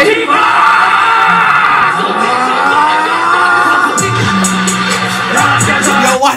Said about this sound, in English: why they screaming at the top of their lungs